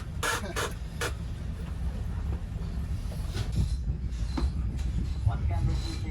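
Steady low rumble of a Chiltern Railways train running from Marylebone to Birmingham Moor Street, heard from inside the business zone carriage, with a few brief clicks and knocks early on and faint voices in the background.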